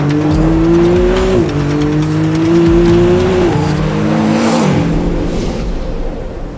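A McLaren Artura hybrid supercar engine revs hard, loud and close, its rising tone climbing and dropping through several gear shifts in a continuous aggressive roar.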